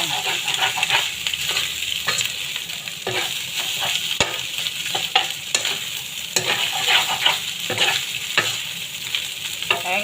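Fried rice being stir-fried in a pan for a Chinese-style dish: a continuous close sizzle broken by repeated scraping and tossing strokes of the spatula, with no voices.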